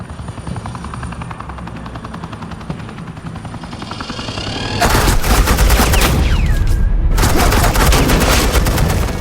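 Rapid suppressing gunfire in the Batman: The Enemy Within video game, starting as quieter rattling under a helicopter drone, then bursting into loud sustained volleys of shots for several seconds.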